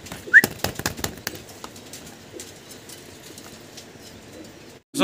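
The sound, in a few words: pigeons cooing at farm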